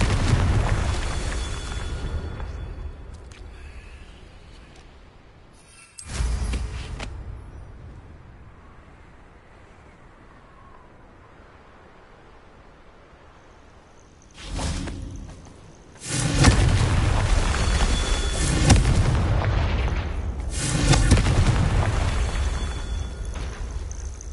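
Confringo blast spells in Hogwarts Legacy, loud booming explosions with broad rumbling bursts, one near the start and several heavy overlapping blasts later, separated by quieter ambient stretches, no talk.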